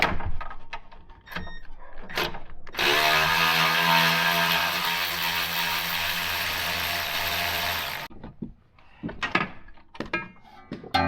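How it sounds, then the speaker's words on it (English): A small ratchet loosens bolts on the rear sway bar of a Mini Cooper F56. A steady mechanical whir runs for about five seconds, with sharp clicks and clanks of handling before and after. "I'm using this little ratchet."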